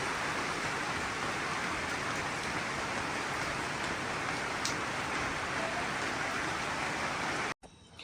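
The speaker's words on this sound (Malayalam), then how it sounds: "നല്ല മഴേൻ്റെ വൈബാണ് കേട്ടോ." Heavy rain pours steadily as a dense, constant hiss of drops close by, running unbroken for about seven seconds before cutting off abruptly near the end.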